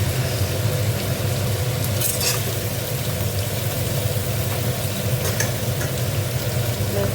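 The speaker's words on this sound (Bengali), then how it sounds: "ভেজে নেব সবজি।" Vegetables fry in hot oil for a Bengali tel chachori, a dense, continuous sizzle with a low rumbling undertone, close and steady throughout, with a few faint clinks of stirring.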